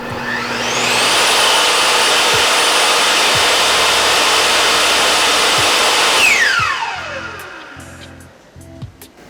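A Bosch 10XC table saw switches on and its motor spins up to a loud, steady whine held for several seconds, then winds down with a falling pitch as the blade coasts to a stop, leaving a few faint clunks.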